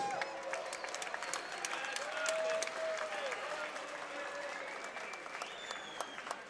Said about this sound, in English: All right, a round of applause for these two warriors.